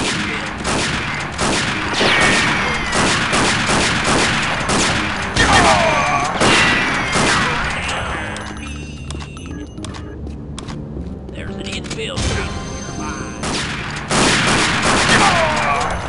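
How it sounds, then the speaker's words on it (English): Gunfire from Unreal Tournament on the Bad Lands map comes in bursts of rapid, loud shots, with dense volleys, a quieter lull midway, then more firing. "Open fire on him."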